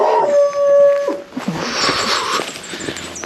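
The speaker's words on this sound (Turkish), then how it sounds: "Üçüncü köpek." A dog howls along a hiking trail, one long rising wail in the first second, followed by rustling and scattered faint yips and whimpers nearby.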